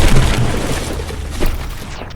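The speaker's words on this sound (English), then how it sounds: "landing 2 straight shots in the first volley on the main guns of the Gargantua" Battleship main guns fire a volley in the From The Depths naval combat game, heard as loud, deep booming blasts with rumbling overlapping reports that fade toward the end.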